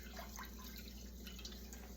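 Basmati rice swished and rinsed in a pot of water, a steady close watery sloshing with small drips and trickles at a constant low level.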